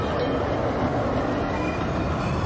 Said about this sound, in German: Diese Straßenbahn gehört einem amerikanischen Investor.